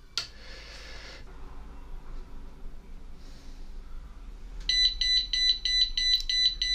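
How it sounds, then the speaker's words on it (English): An Arduino Uno based alarm clock's high electronic buzzer sounds in a short burst, goes quiet, then returns as a rapid pulsing beep over a low background hum. "we haven't turned the alarm on."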